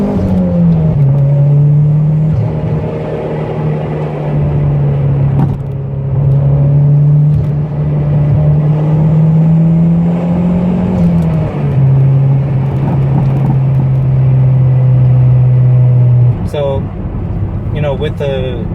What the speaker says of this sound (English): With the stock blow-off valve, that sounds pretty good.